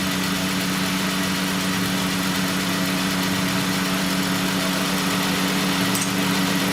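A Dodge Grand Caravan with a Chrysler engine idles in a shop, a steady, loud, even drone with a low hum and a faint knocking vibration running through the whole stretch.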